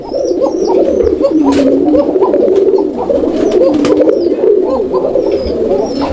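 A single male Raj-Golla pigeon coos close and loud, repeating rhythmic rolling coos in a continuous series.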